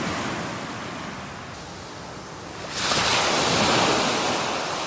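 Ocean surf washes steadily onto a beach, a dense roar that swells louder partway through, with wind buffeting the microphone and no voices.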